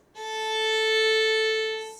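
A single sustained bowed string note, rich in harmonics, rises quickly from silence and holds steady for under two seconds before easing off, heard up close and alone.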